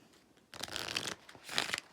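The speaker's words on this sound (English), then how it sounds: "And shuffle everything up." Smooth plastic-coated playing cards are shuffled in two quick riffling bursts, close and crisp, separated by a brief pause in a quiet room.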